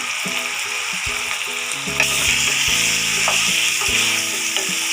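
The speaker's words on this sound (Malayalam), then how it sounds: "ആ മഞ്ഞൾ നല്ലപോലെ ഒന്ന് വഴരട്ടെ." Turmeric powder frying in hot oil for a poori masala gives a loud, continuous sizzle close up, broken by the scrape and knock of stirring against the pan.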